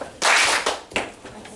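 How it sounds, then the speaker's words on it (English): A classroom of freshman biology students gives a group one collective clap, a sharp burst followed by a few scattered, quieter claps trailing off. "Let's give them one clap."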